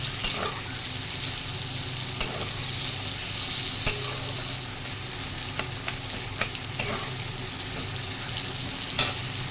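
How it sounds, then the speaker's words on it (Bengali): Onions frying in a pan for an egg and potato curry, a continuous close sizzle broken by several distinct spatula knocks and stirring scrapes, with no one speaking. "পেঁয়াজটা ভাজা হোক"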